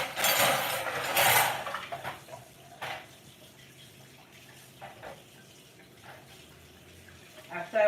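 Tap water runs into a sink as meat is rinsed in a kitchen, a loud gush at first then softer splashing and a few clinks, close by.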